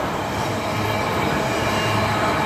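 A train rolls through a neighborhood in a steady, continuous rumble of wheels on rails with a faint high whine over it. It sounds fairly close and carries no talk.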